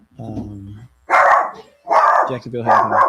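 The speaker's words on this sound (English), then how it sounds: "that's my dog barking in the background" A dog barks three times in quick succession indoors, loud and close, just after a voice speaks.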